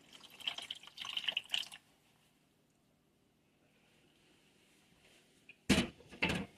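Liquid is poured into a leftover chicken and pasta bake dish, heard as short splashy bursts at the start, a long near-silent pause, then two more brief pouring bursts at the end, with no talking.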